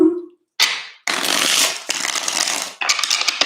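Tarot cards being shuffled close up, several brisk riffling bursts separated by short gaps, loud and crisp with no talking over them.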